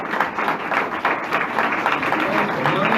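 A church congregation applauds in a steady, even wash of clapping that fills the room throughout.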